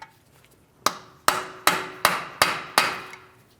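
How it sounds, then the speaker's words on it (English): Six sharp metallic hammer taps on a punch against an axle in a Chevrolet Malibu wheel bearing hub, evenly spaced with a brief ring after each, close and fairly loud, after a short quiet start. "We're going to start tapping on this to break the axle free from our wheel bearing hub."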